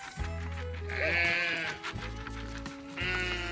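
Goats bleat in a farm yard, loud, close, drawn-out cries following one another with brief gaps, several calls overlapping near the end.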